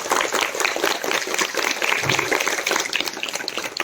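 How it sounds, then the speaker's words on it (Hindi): Audience at a grand summer camp celebration applauding a professional yoga trainer, a steady dense wash of clapping filling the whole stretch at close range, with no talk over it. "उनके लिए भी एक जोरदार तालियां बजा दें सबको"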